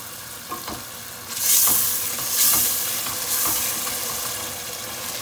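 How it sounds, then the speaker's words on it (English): Tomato puree poured into a hot frying pan of blended ingredients for carrot rice, setting off a loud, steady sizzle with bursts of hissing steam and stirring, no voices. "I'm adding my tomato puree."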